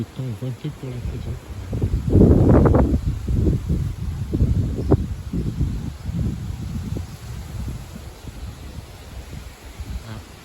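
Strong southwest wind at about 60 km/h on a June afternoon roars steadily through trees heavy with leaves, a broad rushing noise that swells and eases while a voice talks over it throughout.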